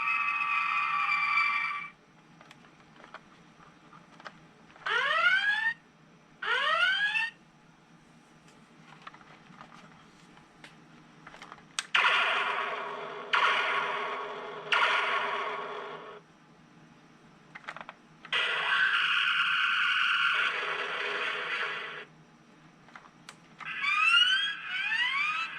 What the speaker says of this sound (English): That's like the original sensor effect from the Cage episode.